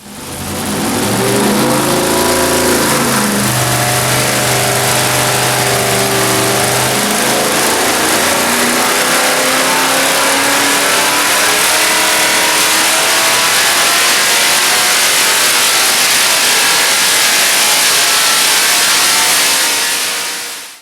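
A 421 ci small-block Chevy V8 runs loud on a dyno, rising from a rough idle into a long sustained pull that climbs steadily in pitch before cutting off at the end.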